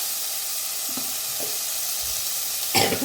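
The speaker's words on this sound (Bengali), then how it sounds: "টমেটোটাও একটু নাড়াচাড়া করছি।" Tomato frying and being stirred in a pan for a sweet-sour-spicy rui fish curry, with a steady broadband sizzle and a few soft utensil scrapes, one louder burst of stirring near the end.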